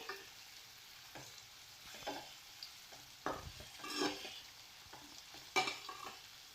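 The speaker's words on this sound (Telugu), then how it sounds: "ఇలా ఫ్రై చేసుకోవాలండి. ఒక్కొక్కటి ఇలా తిప్పుకుంటూ ఫ్రై చేసుకోవాలి." Chicken leg pieces frying in oil, each piece turned over as it browns: a low, steady sizzle broken by several louder scraping and clattering bursts from the turning, with no voices.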